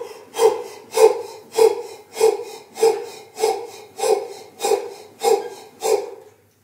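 Forceful breaths pushed out through the mouth as an exercise on a rebounder, about ten strong rhythmic puffs evenly spaced roughly every 0.6 seconds, close and alone.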